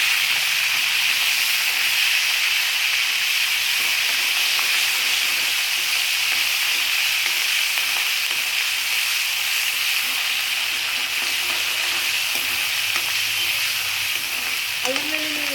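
Ginger paste frying in a pan for an aloo tomato curry, a loud, steady sizzling hiss that holds evenly throughout with no voices.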